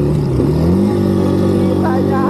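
A Honda motorcycle engine running loud and close, its droning hum rising in pitch as it revs and steadies, with someone talking over it.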